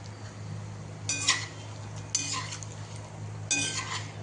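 Grated coconut is stirred and fried over a medium gas flame for a thin-poha chivda: three distinct scraping stir strokes rise over a steady low burner hum and a soft frying hiss.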